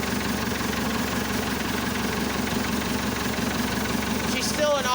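A Massey Ferguson Super 90 diesel tractor engine, started cold after repair, idles steadily with a low rumbling chug that holds even and loud throughout, with a faint squeaky sound near the end.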